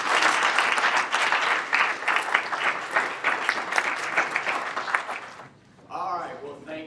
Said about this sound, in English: Why don't we give them a big round of applause?